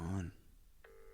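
Brief speech gives way to a short pause, then a single faint ringback tone sounds on an outgoing telephone call.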